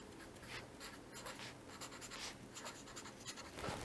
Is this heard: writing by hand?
yes